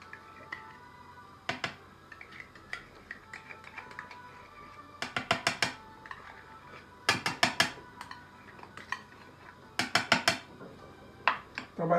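A metal spoon knocks and scrapes against a pan while potatoes are mashed for a potato and meat tray bake, in sharp clustered bursts of clinks separated by short quiet gaps, fairly close.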